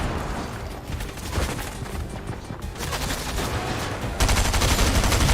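Shotgun fire in Fortnite crackles in rapid, overlapping bursts amid other battle noise, growing louder and denser toward the end, with no talking.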